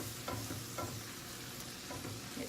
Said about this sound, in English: you just want to stir it till it gets thick and everything gets wet